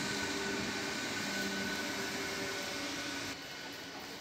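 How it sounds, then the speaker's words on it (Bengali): A train at the Seoraphuli railway station platform, near services running toward Bardhaman, gives a steady, loud broadband rumble and hiss that continues without break and eases slightly near the end, with no voices. "4 নম্বর প্ল্যাটফর্ম থেকেই ট্রেন ছেড়ে যাচ্ছে বর্ধমানের দিকে"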